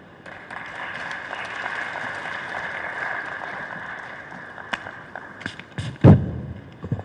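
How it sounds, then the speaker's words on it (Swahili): Audience applause at a water science conference, welcoming the guest of honour as she comes up to speak: steady clapping that runs for several seconds, with a few louder thumps near the end. "Makofi jamani mengi kwa mgeni rasmi"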